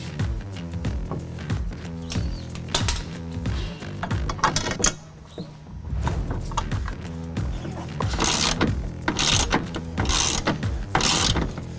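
Ratchet wrench clicking rapidly on fuel tank strap bolts under a 2019-22 Mercedes Sprinter van, loud close bursts of metallic ratcheting with brief pauses between strokes.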